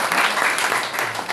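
Steady applause from a gathered audience at a formal event, a dense continuous wash of many hands clapping close and loud for the whole moment with no voices on top.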